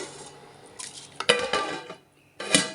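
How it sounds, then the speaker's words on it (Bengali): A metal lid clanks down onto a dekchi of boiling rice, giving a couple of short close knocks and rattles over a quiet simmering background. "ওই ডেস্কির ঢাকনাটা দিয়ে আমি ঢেকে দেবো"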